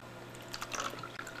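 Liquid poured from an easy-pour spout into a plastic snuff sickle maker tray, a faint soft trickle with light splashy drips over about a second.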